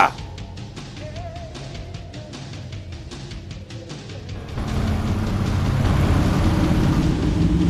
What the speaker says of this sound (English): And the rumble of the engines are firing.